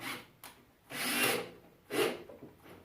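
A small screw driven into a miniature wooden picnic table, heard as short bursts of a power driver whirring and biting into wood, two main bursts separated by pauses, close and fairly quiet.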